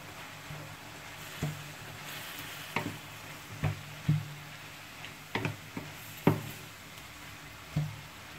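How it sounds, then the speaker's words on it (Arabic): A spoon scrapes and stirs a meat and vegetable filling in a frying pan, with repeated soft knocks and scrapes over a low, steady sizzle; no talking. "Je remue tout bien."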